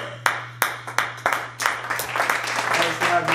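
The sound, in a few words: studio audience applause for guest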